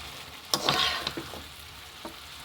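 Taro stolons being stirred in a pan, with a few scraping stir strokes and a light sizzle clustered early, then quieter frying underneath.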